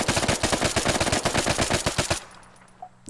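A sustained automatic burst of rapid, evenly spaced shots from a suppressed VSS Vintorez rifle in the video game Arma 3, loud and close for about two seconds, then a quiet tail with a faint later report.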